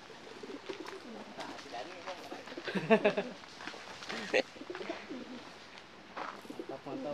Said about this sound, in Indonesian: di sini juga ada penangkaran merpati di kolong